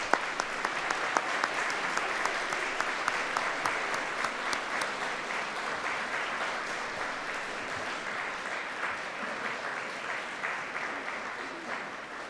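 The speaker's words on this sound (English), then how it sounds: "give them a rousing round of applause for all of their help and" Graduates at a University of Manchester graduation ceremony applaud their friends and supporters, a steady hall-wide clapping with a few sharper nearby claps standing out, gradually thinning over about twelve seconds.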